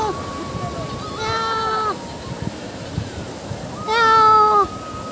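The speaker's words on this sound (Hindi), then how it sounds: "गाइस इधर मुझे बिल्ली मिल गई।" A cat meows twice at Bandra Beach in Mumbai: a short call followed a couple of seconds later by a louder one, both over steady surf and background noise.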